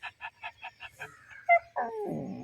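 A man imitates a dog with about six quick rhythmic yips, followed by a whine and a growling, snarling bark, sounding close and lively.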